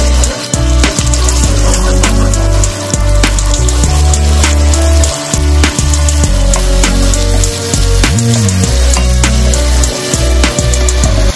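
Fish curry masala for Gujarati black rahu curry sizzles loudly in the pan as thick whisked yogurt is added and stirred fast, a steady dense frying hiss with scraping beneath.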